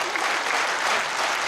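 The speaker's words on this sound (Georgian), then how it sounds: "ეს დამსახურებული აპლოდისმენტები თქვენია" Dense audience applause for a children's choreographic dance ensemble at a jubilee concert, a loud steady wash of clapping throughout.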